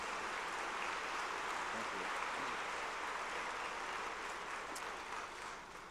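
Audience applause at a university convocation for a jazz band, a dense, even patter of many hands sounding distant and fairly quiet, tapering off near the end.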